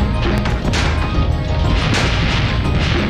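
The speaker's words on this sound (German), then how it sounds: "Und stelle fest, dass hier viele Explosionen sind." Explosions in Spyro the Dragon crash and boom repeatedly, layered into a dense, loud barrage of impacts and rumbling with no pauses.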